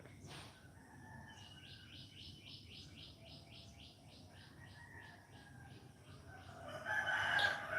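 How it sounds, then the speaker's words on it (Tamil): A crow caws at a house in a rapid, evenly spaced series of calls, moderately distant over a quiet background, ending with a louder burst of noise. "உங்கள் வீட்டில் காக்கா கத்துது."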